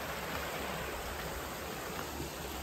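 A river flowing past an orchard in Sintok, Changlun, Kedah, a steady broadband rush of water, continuous and even, with no voices.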